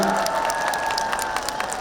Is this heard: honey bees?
no